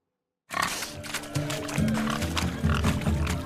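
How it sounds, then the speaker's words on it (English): Pigs grunt and squeal amid a noisy crowd at a pig-catching race during a rustic wedding celebration in The Witcher 3, with a dense, continuous rumble of animal noises and chatter starting abruptly. "Blustering about after pigs, are you?"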